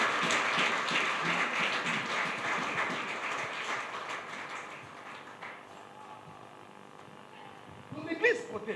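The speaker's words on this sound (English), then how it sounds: "you can stand and we applaud very hard for the good of God" Church congregation applauding hard during a prayer and offering service, a dense broadband wash of clapping that stays loud for several seconds, then thins and fades before a brief burst near the end.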